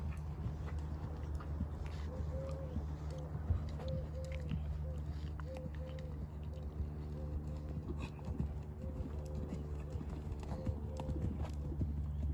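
Horse hooves canter during a riding lesson in a steady rhythmic clip-clop, moderately close, with a low background hum and occasional faint voices.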